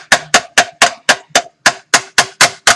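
Metal part of an M240B machine gun being tapped to loosen it, about a dozen sharp, loud, close knocks at a steady, slightly uneven rhythm, each ringing briefly.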